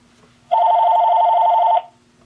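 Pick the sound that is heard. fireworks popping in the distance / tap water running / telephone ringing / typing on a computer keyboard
telephone ringing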